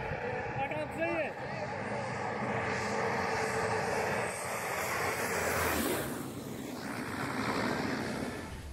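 Airplane engine roaring loud and steady as it takes off in the evening, a broad continuous rush of jet noise that swells slightly toward the end, with a short burst of voices near the start.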